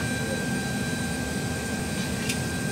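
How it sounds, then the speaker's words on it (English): Steady, loud cabin drone of an airplane in flight about to land, an even engine roar filling the whole stretch with no break. "Our plane is about to land"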